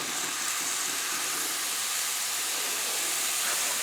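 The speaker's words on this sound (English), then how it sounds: "So we're going to saute that for a few minutes." A steady, loud hiss of vegetables sautéing in a hot pan, broadband and unbroken throughout, with no voices.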